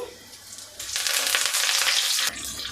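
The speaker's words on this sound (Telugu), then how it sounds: "ఒక స్పూన్ పోపు దినుసులు కొద్దిగా చిటపట అన్న తర్వాత కొద్దిగా కరివేపాకు" Tempering spices and curry leaves hit hot oil, a quiet crackle swelling into a loud, dense spluttering burst for over a second before easing back, close by.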